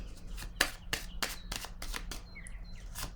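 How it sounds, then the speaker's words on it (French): A tarot card being laid down during a reading, heard as a series of soft, quick card slaps and shuffling flicks at close range, with faint chirps in the background. "Je vais déposer une autre carte."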